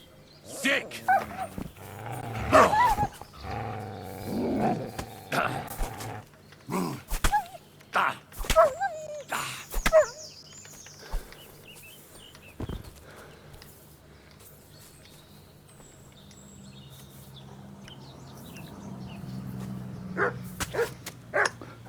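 Repeated sharp barks and yips from several wolves in a video game, Kingdom Come Deliverance 2, close and irregular, with a person talking over them at times.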